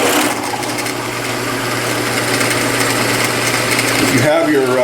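Slow, careful drilling into a scalloped pen blank, a constant close motor whine with a faint grinding edge, winding down sharply near the end as the bit stops, with someone talking over it.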